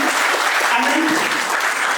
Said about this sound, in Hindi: तो एक बार राधिका के लिए जोरदार तालियां बजाएंगे।